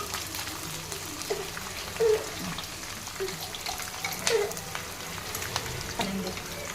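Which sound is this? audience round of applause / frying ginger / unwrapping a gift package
frying ginger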